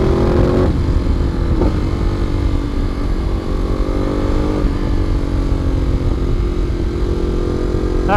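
A 2014 Ducati Monster 821 on its stock exhaust revs loud and close, with engine pitch rising and dipping through several throttle changes and no voices.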